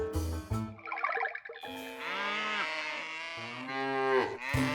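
Cartoon cows moo repeatedly, long low bellowing calls overlapping one after another, loud and close.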